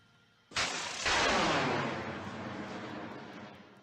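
Missiles firing and exploding in Minecraft with the MCHeli mod: a sudden launch burst followed by a louder blast that rumbles and slowly fades over a few seconds.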